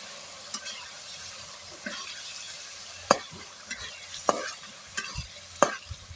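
Pieces of meat dropped into spices frying in a pot and stirred, giving a steady quiet sizzle with several sharp scraping and clattering strokes of the spoon spaced through it.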